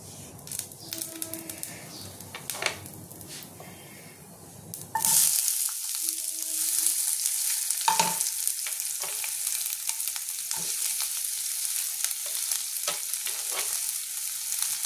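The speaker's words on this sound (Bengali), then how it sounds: "এবার আমি পেঁয়াজটা দিয়ে দেবো, পেঁয়াজ কুচিটা দিয়ে দেবো।" Chopped onion hits hot mustard oil in a wok with a sudden loud sizzle that continues as a steady, crackling hiss, broken by a few scraping stirs.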